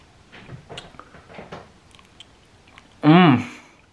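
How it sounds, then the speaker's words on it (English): Raw honeycomb wax is chewed with soft, wet bites scattered through the first part, followed by a short burst of louder close-up sound near the end. "I'm chewing the wax"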